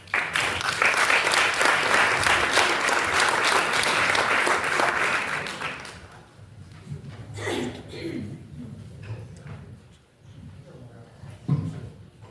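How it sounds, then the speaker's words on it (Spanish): An audience at a presentation in Nanclares de la Oca claps loudly and steadily for about six seconds before the applause fades, followed by a speaker talking. "Un aplauso para él."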